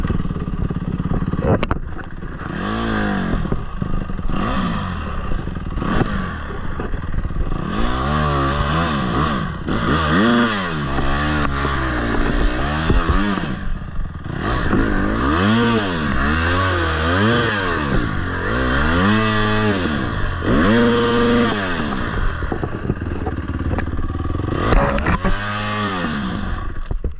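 A dirt bike race bike revving hard on a trail, its buzzing engine climbing and dropping through repeated throttle bursts and gear changes, loud and close throughout with a rough, rattling edge.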